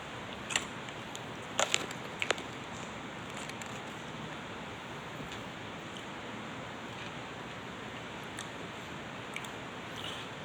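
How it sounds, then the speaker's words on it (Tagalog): Rain falling outside during a livestream, a steady broadband hiss that stays even throughout, with a few faint clicks and knocks near the start. "Yes, umuulan dito."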